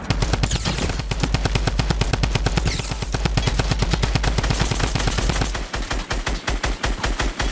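Rapid automatic gunfire in the Fortnite video game, loud and close, a continuous stream of evenly spaced shots that shifts to a slightly slower, punchier rhythm near the end.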